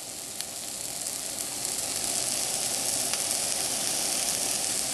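Steak cooking without oil in a stone coated skillet set to 5, a continuous, even sizzle and hiss that grows slightly louder partway through, with faint pops and no talking.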